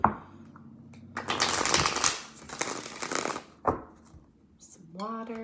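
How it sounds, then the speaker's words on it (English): Tarot cards riffled and shuffled by hand at close range, in a few quick papery bursts separated by short pauses, ending as a voice begins speaking. "Let's give it a shuffle."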